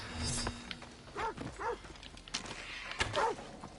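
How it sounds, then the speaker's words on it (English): A dog in the video game Assassin's Creed Odyssey, accompanying bounty hunters in an enclosed space, gives several short barks and yips in quick succession, fairly faint among game sounds. "And one's got a dog with him."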